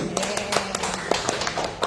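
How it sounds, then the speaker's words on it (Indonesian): Attendees at an offline fragrance business training session clap for a member, the claps sparse and distinct, coming in a loose, uneven rhythm rather than a full roar, with light room noise between them. "tepuk tangan buat Mas Kiki ini"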